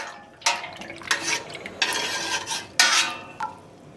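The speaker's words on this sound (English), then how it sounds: "Just rinsing out the jar." Glass jar rinsed out after iron dye mordant, with several bursts of splashing water and clinks of glass, close and fairly loud, no talking.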